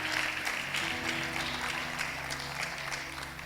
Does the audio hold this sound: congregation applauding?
yes